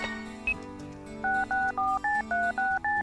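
Telephone dialing in the video game Tokimeki Memorial 2: a short beep, then a quick run of eight crisp touch-tone button presses in a steady rhythm over soft background game music, with no talking.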